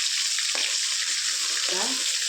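Garlic sizzles steadily in hot oil in a pan while a tamarind kadhi tempering is cooked, a loud, continuous crackling frying hiss with brief stirring clinks and no talking.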